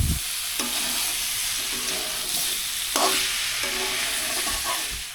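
Snakehead fish curry sizzles as it is fried in a pan, with two clear spatula scraping strokes cutting through the steady frying noise.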